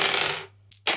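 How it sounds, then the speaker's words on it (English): Many dice tossed together at once as part of a tabletop dice game, a brief clattering burst that quickly dies away, followed by a few scattered clicks and a second loud rattle at the end. "throwing a lot of dice at the same time"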